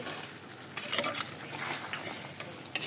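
Local desi chicken being sautéed in a clay pot over a clay stove, a dense sizzle with scraping stirs and a final clink of the utensil, close up with no talk.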